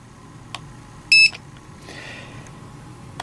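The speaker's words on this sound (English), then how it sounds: "if your cipher beeps when you scan the RA barcode, the number has been entered" A barcode scanner gives a single short, sharp electronic beep as it reads an RA barcode on a returns tracking sheet, heard alone against quiet room background with a few faint clicks.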